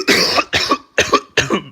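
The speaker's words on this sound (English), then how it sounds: "I got an interesting cough" Four harsh coughs in quick succession, close and loud, with short pauses between them.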